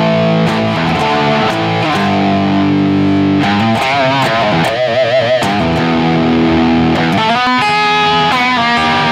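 An electric guitar runs through a Caliburn Marshall Plexi-style crunch amp simulation without extra EQ, producing loud, continuous distorted chords and single-note riffs with sharp pick attacks and no talking.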